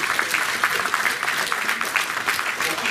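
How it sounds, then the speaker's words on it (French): A crowd claps steadily and warmly at a pétanque tournament trophy presentation in Paris, a dense patter of applause throughout, close by and at even strength. "Merci d'applaudir Farhad."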